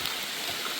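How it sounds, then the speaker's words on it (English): Rain falling on a trail along the Appalachian Trail, a dense, even hiss of drops that stays close and steady through the brief moment, with no voices. "Oh, here comes the rain."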